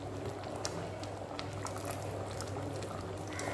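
Tamarind curry boils on a stove, a continuous, close bubbling and gurgling of liquid with fine popping, steady and even throughout with no voices.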